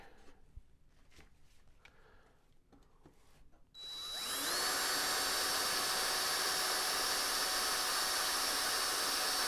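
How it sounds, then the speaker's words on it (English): A power drill bores into wood during a biplane fuselage build, the motor spinning up sharply and then holding a loud, steady high whine that runs to the end after a few seconds of quiet handling. "I got to keep from blowing the dang drill bit through my finger"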